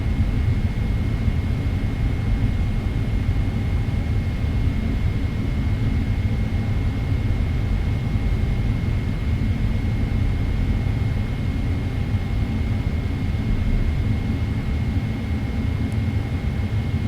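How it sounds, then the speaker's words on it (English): Boeing 777-300ER jet engines idling steadily before takeoff in Microsoft Flight Simulator 2024, a constant low rumble with a faint high whine, unchanging and close. "I'll be quiet when I spool the engines up for takeoff."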